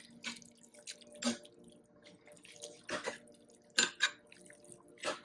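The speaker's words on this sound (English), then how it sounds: "So here I'm adding half more cup of water so that nothing sticks and everything is cooked nicely." About half a cup of water poured into a cooking pot of homemade dog food, heard as intermittent splashes and trickles with short pauses between, close and moderately loud, with no voices.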